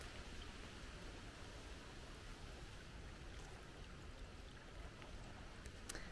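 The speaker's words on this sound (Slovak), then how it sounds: "A vyzerá to tak, že voda tečie." Faint, steady rush of water flowing from a mountain spring in a meadow, an even, unbroken trickling wash with no one talking.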